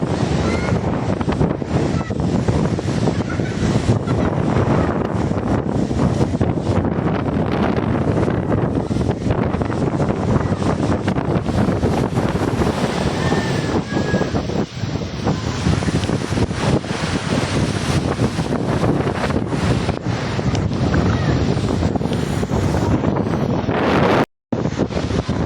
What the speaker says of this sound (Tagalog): Naglalagyan na yung mga alon dito sa amin mga kadagat oh.